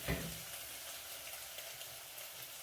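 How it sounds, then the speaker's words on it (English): Onions fry in a pan with a steady, close crackling sizzle that runs throughout, with a faint clink near the start. "So the onions are cooking."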